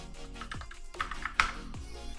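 Quick clicking keystrokes on a computer keyboard while text is entered for an After Effects title, a short burst of close, crisp taps with uneven rhythm.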